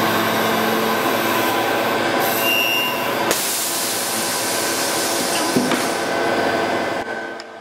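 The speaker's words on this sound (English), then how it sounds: "Then another machine drilled the end of the underjoint to make it rounded" A machine drills and rounds the end of a wooden recorder underjoint, giving a loud, steady whirring grind that shifts character partway through before easing off near the end.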